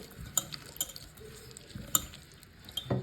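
Curry leaves are stirred into a raw brinjal tamarind pulusu, with faint, close clinks and scrapes of a spoon against a bowl at irregular intervals over quiet background.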